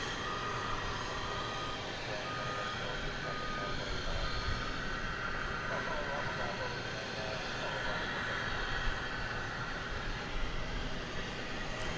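An American Airlines jet arriving from Silao, Mexico, lands at DFW airport with a broad, steady engine rumble and roar. A faint beeping is heard alongside, and a voice may be present under the noise.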